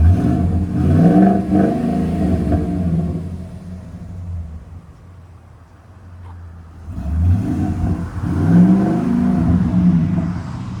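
A Ford F250 Super Duty with a 6.2L V8 and Flowmaster Super 10 true dual exhaust into 3.5-inch tips revs twice, deep rumbling rises separated by a quieter idle lull, close and loud.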